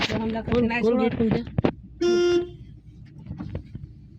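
A single short car horn honk sounds close by, right after a burst of excited talking, with faint background chatter following.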